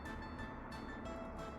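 D1 train set running in the video game Workers & Resources: Soviet Republic, a faint, steady rail rumble with rhythmic wheel clatter and short tonal hums, very low in level.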